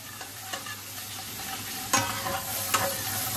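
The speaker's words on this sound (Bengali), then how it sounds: "কষানোটা কিন্তু ভালোভাবে করতে হবে।" Chital fish belly pieces being sautéed with spice masala and a pinch of sugar in oil in a pan give a steady close sizzle, with a few sharper scraping stirs standing out.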